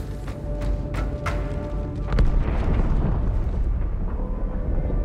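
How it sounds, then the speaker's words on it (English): A deep explosion on the starship Athens in Halo 2 Anniversary, preceded by several sharp cracks and pops, then swelling into a sustained, heavy rumble that fills the rest of the moment. "That explosion came from inside the Athens."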